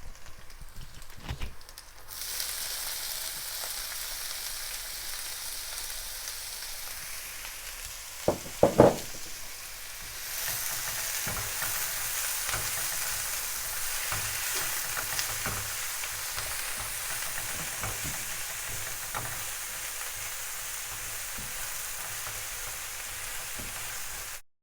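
Onions with a pinch of salt sizzle in a hot pan for Kerala fish curry, a steady soft frying hiss with a brief clatter of stirring partway through and no talk.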